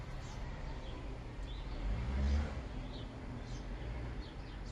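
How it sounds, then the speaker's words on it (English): Open-air ambience in Tompkins Square Park on a market day: a steady low hum of the city and distant traffic, with scattered faint bird chirps and a brief low rumble passing through the middle. "This is the sound from Tompkins Square Park."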